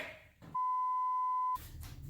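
A single steady electronic censor beep, loud and pure-toned, lasting about a second between stretches of muffled talk.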